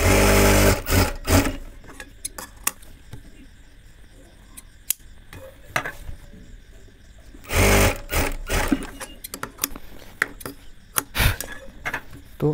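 A sewing machine stitches the side seams of a child's panjabi in several loud, steady bursts of rapid whirring, with quieter pauses and small clicks of handling between runs.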